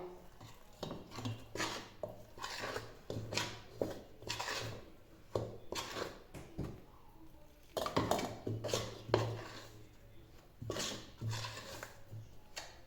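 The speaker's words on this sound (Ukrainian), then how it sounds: "Зараз гарненько вимішаємо, потім вже будемо вимішувати ми руками." Dumpling dough made with boiling water is stirred in a bowl, giving repeated scraping and clinking bursts of utensil against the bowl in an uneven rhythm, close and alone.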